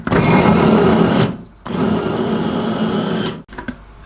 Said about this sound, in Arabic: حطيت الثوم والزنجبيل توا في الربوع، نرحيه ونكمل الباقي.